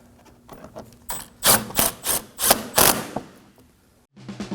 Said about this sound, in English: we're going to install the last 10 millimeter bolt that goes right here